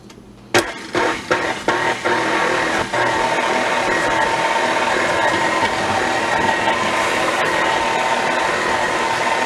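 Electric mixer blending sweet potato pound cake batter with flour, a few quick start-stop pulses, then a loud continuous motor whir that runs steadily to the end.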